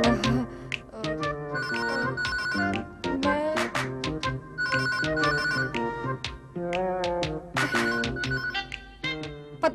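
A home telephone ringtone in a TV drama plays repeatedly in short melodic bursts with brief gaps, clear and close, with no voices.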